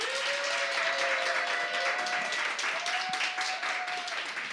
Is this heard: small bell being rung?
no